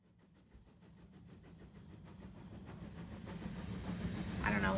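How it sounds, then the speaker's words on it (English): A steam train approaches, its rhythmic chuffing and hiss steadily growing louder, ending in a high squeal. "the sound of the train just makes me smile"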